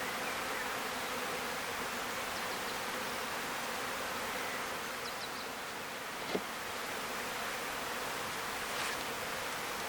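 Honey bees buzzing at a hive, a steady dense hum filling the whole stretch at moderate level, with a brief tap partway through and no voices.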